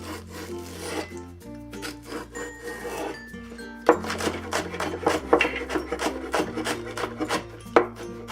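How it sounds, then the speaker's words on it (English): A knife mincing green onions on a wooden cutting board for fried rice, sparse rubbing scrapes at first, then quick, rhythmic chopping taps close by, over steady background music. "We'll mince the green onions also."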